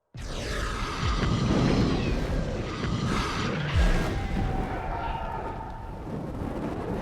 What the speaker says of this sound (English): we have literal explosions where you can see the fire and it just is a big ripping explosion